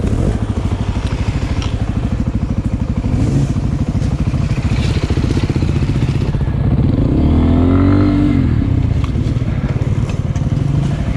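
A Beta dirt bike engine revs close by, a rapid buzzing two-stroke drone that climbs in pitch mid-way then settles back to a steady high idle, loud and continuous with no talking.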